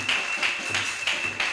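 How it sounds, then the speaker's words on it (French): Church congregation clapping during a French-language service, rhythmic bursts of applause pulsing roughly every third of a second against a steady high-pitched tone. "sous vos acclamations."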